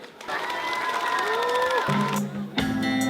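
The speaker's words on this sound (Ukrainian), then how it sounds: "Ваші оплески!" Crowd applause with cheering and whoops from an audience at a school graduation in Truskavets, filling most of the moment before music-like tones take over near the end.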